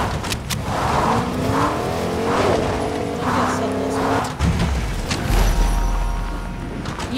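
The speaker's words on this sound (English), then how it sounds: "Ooh, let's use that car." Car driving in the Fortnite video game, a steady revving engine hum with tire squeal and skidding, rising and falling, and a deep rumbling thud partway through.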